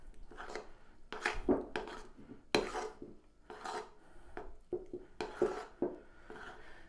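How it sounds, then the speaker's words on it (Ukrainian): Pizza dough being kneaded and mixed by hand in a bowl, giving irregular close scraping, rubbing and soft knocking sounds with occasional sharper clinks against the bowl, no talk. "починаємо вимішувати наше тісто вже"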